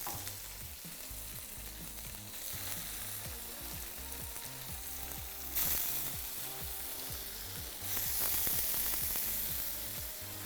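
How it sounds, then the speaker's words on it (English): Food sears loudly in a hot pan with rosemary and thyme, a steady dense sizzle and crackle running the whole time, swelling louder twice as more goes in. "you hear that sizzle?"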